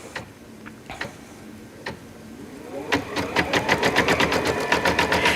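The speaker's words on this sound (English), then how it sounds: "take this back to the embroidery machine, put the hoop back on, and now we're going to stitch that final layer, which is the satin stitch edging" An embroidery machine stitching the satin stitch edging around a fabric badge: a few scattered ticks at first, then a fast, steady mechanical rattle of needle strokes close up and growing louder, no voice.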